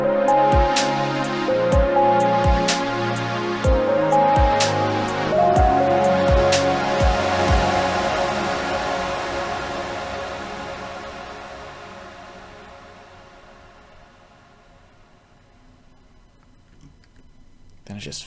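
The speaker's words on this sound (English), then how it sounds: "this ending that we got to talk about here and how it does the reverb fade out" The closing moments of a long album song wash into a big reverb tail, with ticking percussion and sustained chords early on, then the whole mix gradually thins and fades away to near silence.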